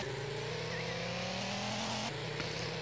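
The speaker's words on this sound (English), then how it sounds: "Must start to drive." A green car driven in the Real Stickman Crime video game gives a steady engine drone with a slowly rising pitch as it accelerates, continuous and fairly loud with no talking.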